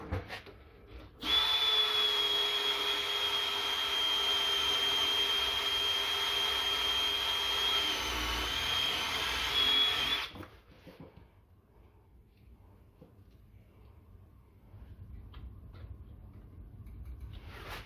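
Power drill running on the rear brake discs of a rear-wheel-drive 2010 Ford Transit, a loud steady whine lasting about nine seconds, then stopping to leave quiet workshop background.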